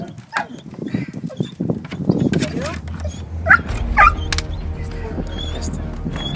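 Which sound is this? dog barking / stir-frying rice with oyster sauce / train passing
dog barking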